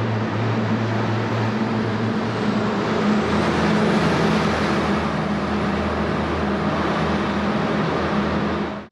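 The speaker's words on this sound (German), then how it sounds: "Jetzt kommt ein Auto, schön laut." A loud car passes a cyclist inside a well-lit tunnel on a coastal road on Gran Canaria, a steady, close, rumbling roar of engine and tyres that fills the whole stretch before cutting off at the end.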